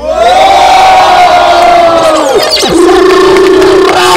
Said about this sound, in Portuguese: muitas palmas nessa batalha, mano!